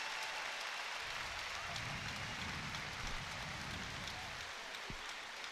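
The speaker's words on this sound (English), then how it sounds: "And she gets a round of applause." Spectators at a women's professional volleyball match between VakifBank Istanbul and Conegliano give a round of applause, a steady, distant, hiss-like wash of crowd clapping that stays faint throughout.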